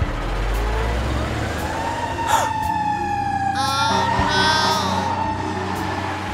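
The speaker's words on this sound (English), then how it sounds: "Fire truck." A fire truck siren wails in rising and falling sweeps over rumbling traffic, with a couple of sharp horn-like blasts partway through.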